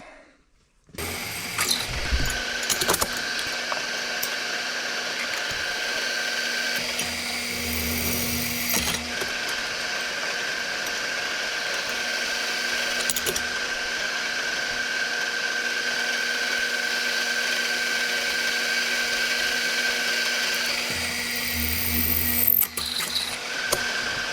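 A drill runs through holes in metal pieces for a workshop applicator build, a steady whining bore with brief stops and restarts, moderately close and without speech.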